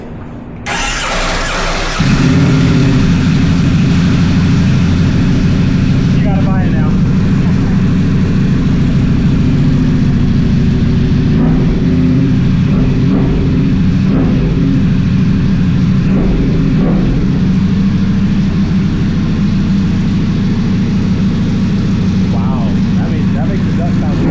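A superbike engine with an aftermarket exhaust fires up and keeps rumbling with deep exhaust revs throughout, and voices talk faintly over it.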